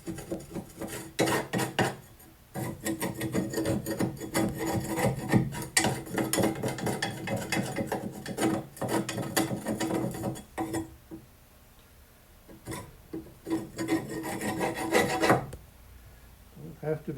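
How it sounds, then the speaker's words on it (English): Steady rasping scrapes on a mower deck being cleaned, coming in close repeated bursts with a short pause partway through, no talking. "Just do the quick scrape."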